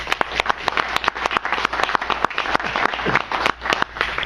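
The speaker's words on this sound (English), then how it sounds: "How about a round of applause for Mr. Leroy Smith?" Steady applause from a crowd at a wrestling panel discussion, many hands clapping briskly and continuously with no talking.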